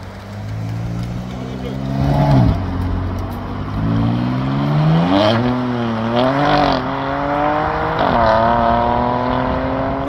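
An Alpine sports car and a Ferrari 360 Modena accelerating at a supercar meeting, engines revving and climbing through several rising pitch sweeps, loud and near, with crowd noise around.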